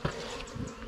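A dense, steady buzz of many honey bees in a hive, close up, filling a brief moment with a low hum.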